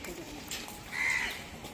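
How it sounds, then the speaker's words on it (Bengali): Birds calling at a deer park, with a short, fairly loud call standing out about a second in against soft open-air background noise. "এই পাখিগুলো বেশি ডাকছে একদম"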